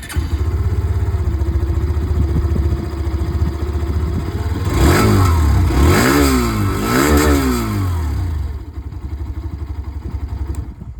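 A 2025 Hero Xtreme 125R Dual ABS motorcycle's exhaust idles with a steady low burble, then revs sharply several times in quick succession before settling back to idle. The engine is close and loud, with no talking.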